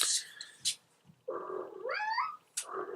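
A cat lets out a long, drawn-out meow that bends upward in pitch, close and fairly loud, framed by short scuffling noises before and after.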